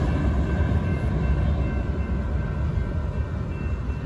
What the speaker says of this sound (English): All right, that's two trains.